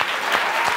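Brief burst of dense, close hand clapping from a small crowd during a live stream, steady and loud throughout.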